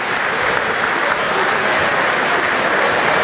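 Loud, dense applause from an audience at a Polish-themed celebration for the 85th anniversary of the Harmonia society in Bully-les-Mines, honouring musician Patrick Pincé, sustained and steady throughout without a break.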